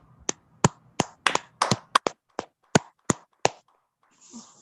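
Scattered claps from a small Toastmasters meeting audience giving a round of applause, a dozen or so sharp, uneven hand claps close by over a few seconds, fading into faint shuffling at the end.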